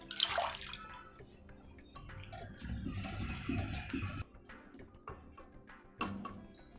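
Water swished from a mixer jar after grinding a paste is poured into a pan for butter cauliflower masala, a short pouring splash in the middle with lighter liquid noises before and after, close by.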